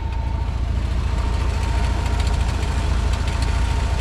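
A 1990 Dodge Power Ram's 3.9 liter V6 idles close by with a steady, even low rumble and a fast, regular pulse, alone and unchanging.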